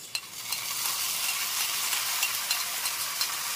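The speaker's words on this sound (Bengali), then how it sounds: "এর মধ্যেই আমি দিয়ে দেবো এই মশলার পেস্টটা।" Ginger-garlic masala paste fries and is stirred into browned onions in a pan, a steady close sizzle with occasional scraping strokes of the spoon.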